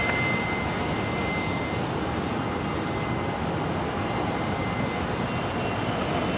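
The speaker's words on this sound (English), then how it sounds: "This Virgin 73 just arrived." Virgin jet airliner arriving at Brisbane airport, a steady loud broadband engine roar holding evenly throughout with no voices over it.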